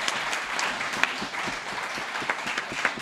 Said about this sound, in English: please give a great round of applause to all these persons who want to be your representative in District